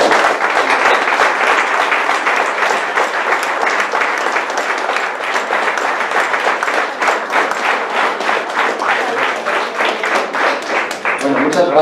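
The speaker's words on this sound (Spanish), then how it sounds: "muchas gracias por estos aplausos a los 4 Pelayos" Audience applause at a members' day event in Asturias, loud dense clapping from a crowd sustained throughout, close and even.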